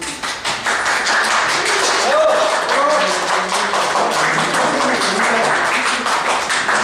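Audience clapping in a secondary school classroom after a talk, continuous dense applause from a group with voices talking over it.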